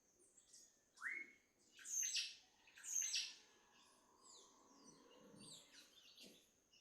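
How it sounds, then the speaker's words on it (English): Many wild birds sing and call in the lower Andean foothills of western Ecuador, with overlapping chirps, whistles and trills. Several louder nearby calls stand out over a steady chorus of fainter, distant song, with no talking. "Sometimes we just sit in a place and we can hear so many birds."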